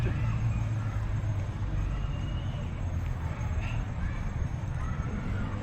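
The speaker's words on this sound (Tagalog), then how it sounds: "nangunguna na yung kabayo nila Michael" Horse hooves clop during a horse ride in Baguio, steady footfalls buried in a dense, even rumble of outdoor noise with faint voices.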